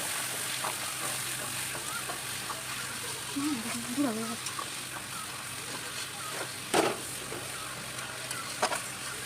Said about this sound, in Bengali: এই রসুনটাকে কিন্তু তেলের মধ্যে খুব ভালো করে প্রথমে একটু নাড়াচাড়া করে নেব